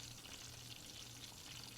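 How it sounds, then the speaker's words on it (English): Plantain slices for Puerto Rican tostones fry in hot oil, giving a steady, dense sizzle that runs evenly and close throughout, with no voices. "as they start frying, reaching the way you want them to be"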